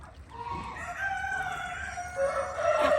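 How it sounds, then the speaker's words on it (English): A rooster crows close by in a yard where two mother ducks guard 29 freshly hatched ducklings in the rain, a sustained strained call rising over steady background chirping and outdoor noise. "Mum's there protecting from a naughty little rooster"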